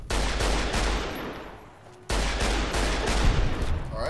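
Rapid bursts of gunfire from the video game Fallout: New Vegas, fought against Securitrons, come as dense, loud volleys with a brief lull in the middle before the firing resumes.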